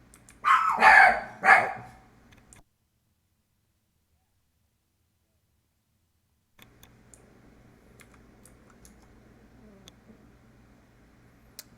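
Dog barking in the World of Warcraft dungeon Gnomeregan: a short cluster of loud barks at the start, then silence, then faint game ambience with soft clicks.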